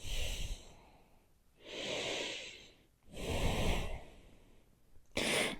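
Slow, deep breathing held during a yoga pose: several long, close, audible breaths rising and falling in an unhurried rhythm, with a fresh breath starting at the end and no talk.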